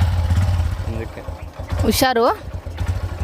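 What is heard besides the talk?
motorcycle being ridden off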